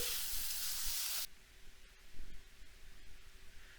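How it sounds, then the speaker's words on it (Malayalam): Chopped tomatoes hitting a hot pan just used for frying seer fish: a loud, hissing sizzle that cuts off abruptly after about a second, then gives way to quieter sizzling and utensil knocks. "പിന്നെ ഇതാ തക്കാളി അത് അരിഞ്ഞത് അത് ചേർക്കാം."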